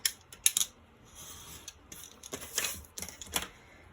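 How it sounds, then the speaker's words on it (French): Scissors snipping through paper while making a scrapbooking gift box, a series of close, crisp cuts at an irregular pace with quiet handling between them. "je découpe entre les repères que je viens d'effectuer"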